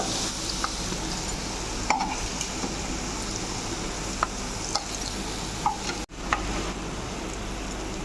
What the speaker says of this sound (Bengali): হালকা করে আমি পনিরটা ভেজে নিলাম